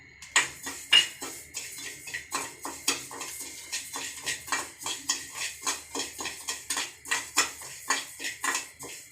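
Sona Masuri rice being poured and stirred in a pan with a metal utensil, giving a steady run of close scraping and clinking strokes at an even rhythm, with no talk.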